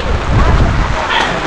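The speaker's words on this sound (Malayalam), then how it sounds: "കുട പിടിച്ചിട്ട് കിട്ടുന്നില്ല കേട്ടോ അമ്മാതിരി കാറ്റാണ് കാറ്റുകൊണ്ട് തന്നെ കാറ്റും മഴയും" Strong wind buffets a hillside tribal heritage village in Wayanad during heavy rain, a loud, steady roar of gusts and downpour that fills the whole moment with rumbling wind noise.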